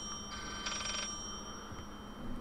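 A telephone rings in Layers of Fear, one short electronic bell burst against a quiet, hollow room tone, with no voices.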